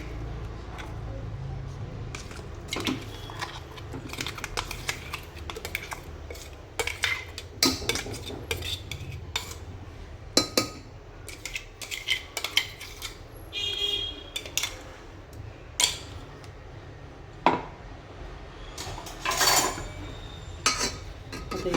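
A metal spoon scrapes and clinks against a pressure cooker while masala paste is stirred into hot oil for mutton curry, with frequent sharp knocks over a low sizzling background and a voice talking in between.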